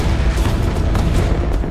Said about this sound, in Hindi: उस जमाने के सबसे लेटेस्ट कैनन्स, तोपों ने एक साथ फायरिंग स्टार्ट कर दी।